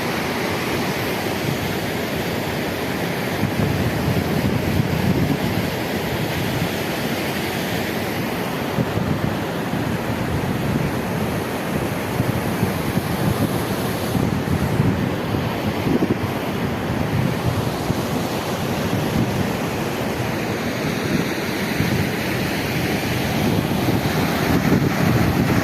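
A river at Pasighat in Arunachal Pradesh rushes steadily, a broad close wash of flowing water with wind buffeting the microphone throughout and no voices.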